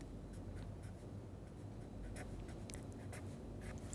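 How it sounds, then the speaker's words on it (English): Pen or chalk writing during a probability and statistics lecture, a steady scratchy rasp with irregular strokes running for several seconds at low level, no voices over it. "So we write down the elements."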